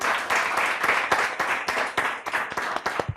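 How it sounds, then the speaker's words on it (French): Applause from a studio audience welcoming a guest, Adja Sidibé, with quick, uneven claps close by that keep going steadily for the whole stretch. "Applaudissez pour Adja Sidibé."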